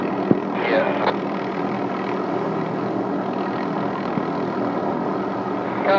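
A helicopter hovers steadily while lowering and setting a utility pole on a hillside, its engine and rotor drone continuous and fairly close, with a few faint knocks and brief background voices.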